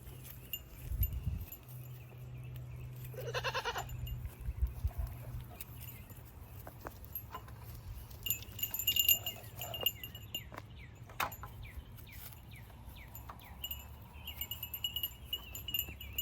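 Goats wearing bells move around a quiet farmyard, giving faint scattered bell tinkles and clinks, an occasional bleat and soft hoof shuffles at close range.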